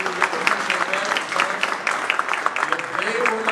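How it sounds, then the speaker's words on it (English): Audience applause for event sponsors at a research and development gathering, lively clapping with distinct sharp claps and some crowd voices mixed in throughout. "If you would give all our sponsors a round of applause."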